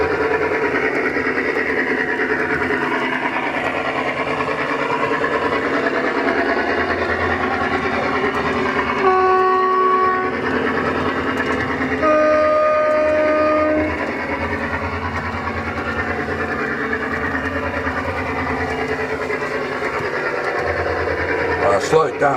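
A model train locomotive's sound unit hums and chugs steadily nearby, with brief horn-like tones partway through and a faint voice.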